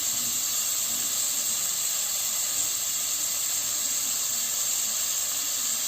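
Onions frying in a pan with added salt, giving a steady, even hiss of sizzling that holds unbroken and fairly loud for several seconds with no voices.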